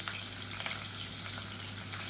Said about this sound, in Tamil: மீடியம் சைஸாக ஒரு வெங்காயம் நீளமாக நறுக்கினதை சேர்த்துக்கலாம்.